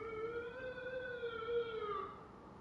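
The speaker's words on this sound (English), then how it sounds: "They're out there playing with sirens just because" A siren out in the neighborhood wails in a long, steady tone that sags slightly at the end, fairly faint and distant, with no talk over it.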